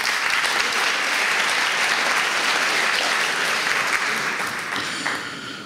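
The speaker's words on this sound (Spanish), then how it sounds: "le brindamos un fuerte aplauso" Loud, steady applause from a seated audience at a Spanish-language novel launch, greeting the mayor of Miraflores; dense continuous clapping that tapers slightly toward the end.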